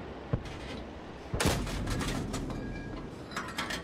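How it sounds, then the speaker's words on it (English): Gunfire from enemy tanks in the World of Tanks video game: a sharp shot near the start, then a heavier blast about a second later that leaves a rumbling, mechanical tail. "There's somebody back in the back line shooting at me."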